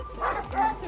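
A large dog on a visit to a home in Yakutia in Russia's far north gives two short bark-like yelps or whines close by, a rapid pair in under a second.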